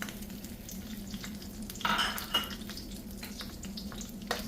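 Chillies and roasted gram hit hot oil and fry with a steady, faint crackling sizzle, with a few brief louder bursts and scraping stirs.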